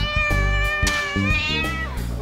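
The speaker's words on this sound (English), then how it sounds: "I gotta get this kitten inside." A kitten meowing outdoors in the cold, several drawn-out, high, plaintive meows in quick succession, loud and close, with a few brief soft noises between them.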